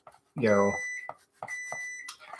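Kitchen timer going off while Christmas tree cookies bake: a few sustained electronic beeps sound under a person talking nearby.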